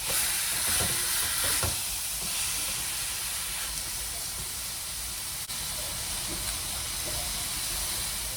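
A whole can of Goya tomato sauce goes into a hot pan of Puerto Rican pollo guisado, raising a steady loud sizzle and steamy hiss with a few stirring scrapes early on, no talking.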